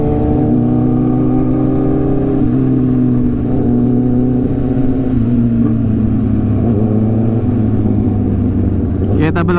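A Yamaha R15 motorcycle engine drones loudly and steadily while riding, a low rumbling tone that shifts slightly in pitch as the throttle changes, close and constant, with brief wind buffeting near the end.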